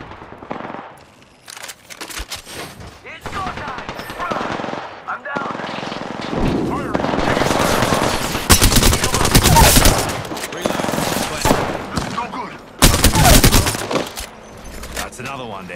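Bursts of automatic gunfire rattle through an Apex Legends firefight, rapid volleys coming in clusters with short pauses, loud and close, while character voices call out between the shots.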